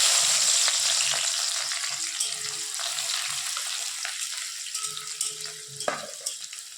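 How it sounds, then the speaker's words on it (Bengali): Sliced onions frying in hot oil into beresta for egg biryani, a continuous close sizzle with light stirring and faint clatter, no speech. "বেরেস্তাগুলো একটু ভেজে নেব"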